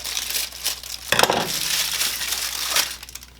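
A plastic bag from a chopped salad kit is cut and pulled open, producing close, crinkly plastic rustling and crunching with a sharper burst in the middle.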